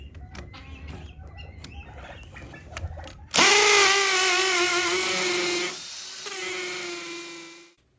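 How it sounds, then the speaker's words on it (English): A power drill bores into the mudroom of an off-grid tiny house, starting with a sudden loud whine that holds steady, dips in pitch partway, then cuts off, preceded by light clattering sounds. "one last spot I gotta drill here"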